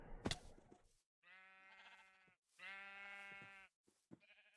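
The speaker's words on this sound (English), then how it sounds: "Shut up, sheep." Sheep in Minecraft's GregTech 6 modpack give three drawn-out, buzzy bleats in succession, close and clear, with a brief click at the start and a short fourth bleat at the end.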